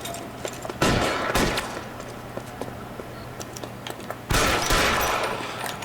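Gunfire in the LA Noire video game: a few sharp shots early, then a dense, loud volley near the end over a low steady background hum.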